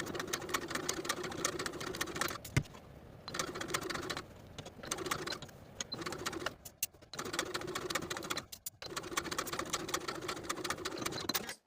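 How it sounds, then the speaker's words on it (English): A sewing machine runs in steady bursts, top stitching a garment placket one-eighth inch from the seam while making a women's top with sleeve button tabs, stopping briefly several times between runs. "we're going to sew from the front of the garment, top stitching the placket in place on the placket side 1/8 inch away from the seam"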